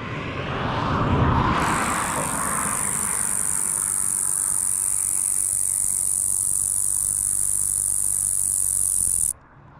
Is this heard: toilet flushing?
no